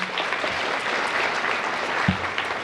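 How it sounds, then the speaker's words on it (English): Audience applause at a school honor society induction ceremony: steady, moderately loud clapping from many people filling the whole moment, with one brief thump near the end. "Let's give her a round of applause for being here."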